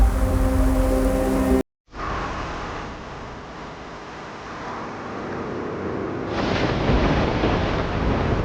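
Strong wind blows in a steady broadband roar, close and loud, with a short dropout near the start and a gust that swells louder toward the end.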